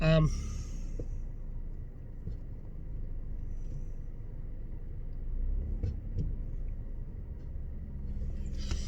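A car slowly reverses into a parking space, its engine a low steady rumble that runs throughout with a few faint knocks and clicks.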